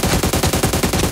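Fast automatic gunfire in a mobile shooter game, an even, rapid rattle of about a dozen evenly spaced shots, loud and close with no talk.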